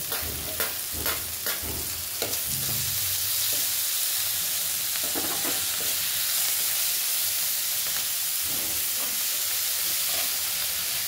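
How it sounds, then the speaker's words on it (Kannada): Onions frying in a pan as tomato is added, a steady loud sizzle with clanks and scraping stirs of a spoon against the pan, no voices. "ಇವಾಗ ಈರುಳ್ಳಿ ಚೆನ್ನಾಗಿ ಫ್ರೈ ಆಗಿದೆ. ಟೊಮೊಟೊ ಹಾಕ್ಕೊಳ್ತೀನಿ."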